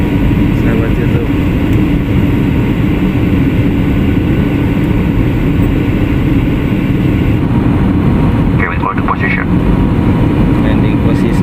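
Sriwijaya Air airliner during takeoff, a loud, steady low roar of jet engines and cabin rumble throughout, with a brief clatter of cabin noise near the end.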